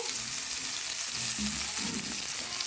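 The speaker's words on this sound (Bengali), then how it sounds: "এই ফুলকপি আলুটাকে সুন্দর করে ভেজে নিচ্ছি" Cauliflower and potato pieces, with some radish, fry in a pan, giving a steady, moderately loud sizzling hiss with occasional soft stirring clatter and no talking.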